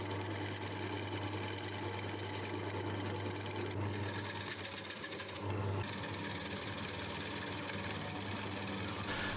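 A wood lathe spinning a workpiece for a wedding cake stand while a circular carbide tool smooths the rim, with a steady close motor hum and rapid rhythmic chatter, briefly interrupted twice as the cut lightens.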